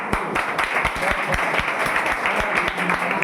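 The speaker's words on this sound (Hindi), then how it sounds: "ताली मार।" A quiz-competition audience claps together at a school grand finale, a steady, dense patter of many hands with some voices underneath, continuous and fairly loud.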